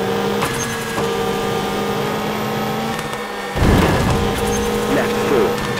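Citroen rally car engine on a French stage in WRC 2, a loud, steady drone with shifting pitch and a burst of harsher revving near the end, under a co-driver's spoken pace notes.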